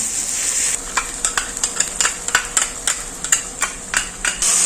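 Ginger-garlic paste being stirred into frying onion and tomato in a pan, a steady sizzle broken by repeated scraping stirs of the spoon, close and fairly loud, with no talking.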